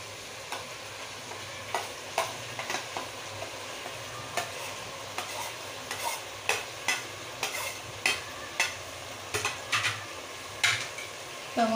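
Chicken and onions frying in oil with three pastes, stirred by a spoon that knocks on the pot in a steady, evenly spaced rhythm over a low sizzle, close and clear with no talk.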